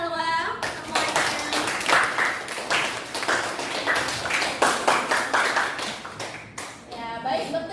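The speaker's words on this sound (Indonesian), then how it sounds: "Berikan aplaus untuk Salwa semuanya." Classroom applause for a student, a burst of many hands clapping rapidly and unevenly, fairly close and sustained for several seconds, with a few children's voices mixed in.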